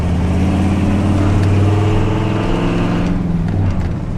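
A worn-out Ford F250 pickup with a high idle pulls away from a stop sign, its engine a loud, steady low drone heard from inside the cab that drops slightly near the end as it shifts.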